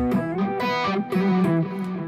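Electric guitar notes played in a quick phrase, each trailed by repeating delay echoes that blur into one another.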